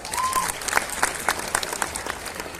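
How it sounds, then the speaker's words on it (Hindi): Audience applause breaks out at a Hindi poetry gathering (kavi sammelan) at Sahitya Aaj Tak 2023, dense and steady clapping from a large crowd that holds throughout, with a brief whistle-like tone near the start. "तो तालियां बजा दीजिए एक बार"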